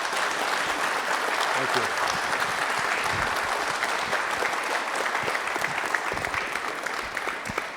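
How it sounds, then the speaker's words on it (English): Applause from an audience at a city's State of the City 2025 event, a steady, dense clapping that carries on for several seconds, with a brief spoken thank-you over it. "Let's give him a round of applause"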